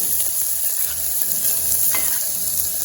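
Steady hissing sizzle of chopped onion frying in a hot pan, with occasional faint stirring scrapes.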